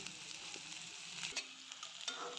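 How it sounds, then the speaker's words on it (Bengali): Chopped onions fry in hot oil with bay leaf, garam masala and dried red chilli, giving a steady, close sizzle. Stirring scrapes sound occasionally in the pan. "তেজপাতা গরম মশলা শুকনো লঙ্কা দিয়ে পেঁয়াজ কুচিগুলো দিয়ে দিলাম"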